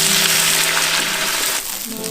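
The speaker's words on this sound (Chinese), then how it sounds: "锅里面来点点油，先把猪蹄下锅煸香。" Pig trotters stir-frying in a little oil in a wok give a bright, continuous sizzle from close by that stays loud for the whole short stretch and dips slightly near the end.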